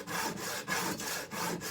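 A steel chisel is worked back and forth across a sharpening stone, a 300-grit stone in a woodworking shop, giving steady rhythmic rasping strokes about every third of a second, close and alone.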